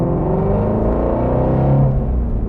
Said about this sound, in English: The way I can best describe that sound is just a fat V8 sound.